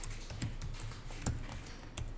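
Someone types on a computer keyboard during an accounting class, with scattered soft keystrokes and a few sharper clicks at an uneven pace, close and moderately quiet.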